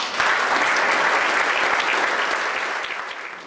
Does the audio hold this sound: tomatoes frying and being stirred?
no